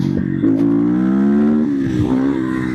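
A Geon GNX 300 motorcycle accelerates hard in third gear, its close, loud engine note climbing in pitch, dipping briefly and then rising again.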